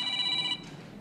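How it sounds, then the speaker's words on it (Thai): A telephone rings with a bright electronic trilling tone during a lecture, one short burst that cuts off midway, close and clear over faint room noise. "เอางั้นเดี๋ยวรับโทรศัพท์นิดนึงนะหลายสายแล้วคงจะสำคัญ"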